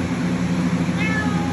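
A single short cat meow rises briefly over a steady low hum, with no voices.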